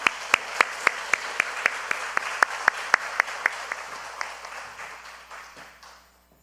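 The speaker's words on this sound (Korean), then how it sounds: "박수로." A church congregation claps during a new-members school graduation and baptism service: crisp, evenly spaced claps fall in a steady rhythm at a brisk pace, then grow softer and sparser before trailing off into quiet room tone.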